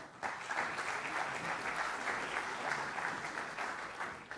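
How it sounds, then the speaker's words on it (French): Sustained applause from a conference audience as speakers join the stage for a round table, a dense even wash of clapping that holds steady for several seconds before tapering. "On peut les applaudir."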